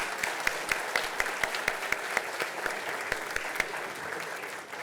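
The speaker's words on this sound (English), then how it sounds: "Everybody give them a round of applause." A standing audience at a business hall of fame ceremony claps for honorees, a full room of dense applause with distinct nearby claps punctuating the wash for about five seconds.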